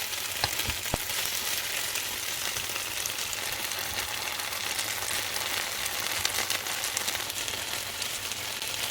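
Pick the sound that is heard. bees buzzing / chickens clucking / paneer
paneer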